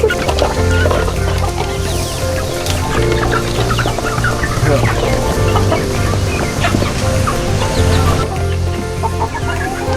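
Chickens cluck and call while being fed fresh maggots at a maggot farm, a busy, continuous chorus of clucks close by with scattered calls from the flock.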